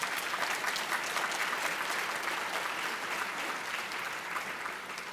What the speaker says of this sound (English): let's give Dr. Haynes a round of applause for doing an exceptional job